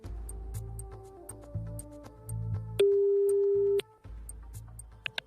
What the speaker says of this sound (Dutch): Ik duw op de knoop en ik denk dat de telefoon zo overgeet.